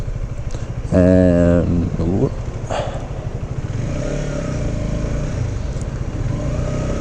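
A Honda CBR 125R motorcycle rides along at steady cruising speed, its low engine drone running throughout with a brief surge near the start, while a rider talks over it.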